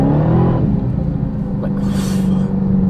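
A 2023 Dodge Hellcat's supercharged engine rumbles loudly from inside the cabin in track mode, a deep drone with revs shifting abruptly as hard gear changes land; a voice briefly speaks over it.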